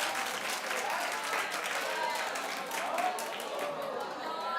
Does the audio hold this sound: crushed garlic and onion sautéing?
no